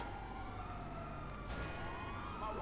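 A police siren wails in Grand Theft Auto 5, steady and sustained under a dense rumble of in-game engine noise, at moderate loudness for the whole stretch, with no speech.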